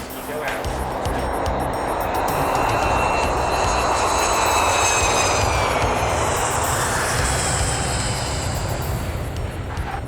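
An airliner arriving at Bristol Airport from Malaga roars loudly and steadily throughout, a broad engine rumble with rising turbine whine, close and continuous.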